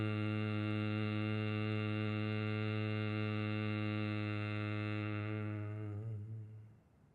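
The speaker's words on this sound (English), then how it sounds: "It's the humming bee sound." A steady, low humming exhale of Brahmari pranayama, the humming bee breath, sustained evenly for about six seconds before tapering off at the end, with no other sound alongside.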